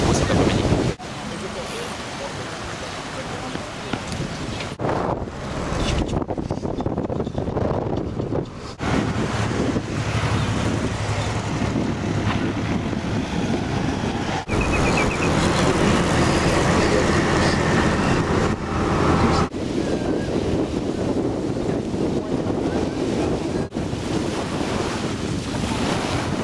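Strong wind buffets the microphone at the seaside, with waves and surf rolling beneath it, a steady loud roar through the whole stretch with a few brief gaps.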